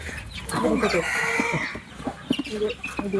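Chickens cluck and squawk close by in short, uneven bursts, with a drawn-out crowing call near the start and farmyard noise around them.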